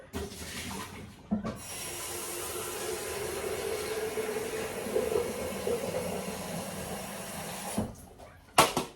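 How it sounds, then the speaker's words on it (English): Fresh tap water running steadily into a kettle for several seconds, a continuous hissing gush bracketed by clunks of handling at the start and end, close by with no speech. "I am going to fill up the kettle with some fresh water"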